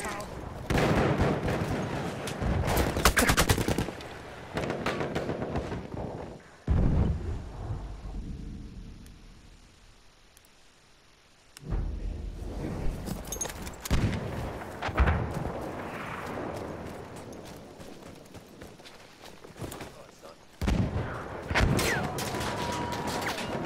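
Bursts of video game gunfire and explosive blasts from a battlefield shooter come in loud clusters, with heavy low rumbles and brief quieter gaps between volleys, and voices talking over the combat.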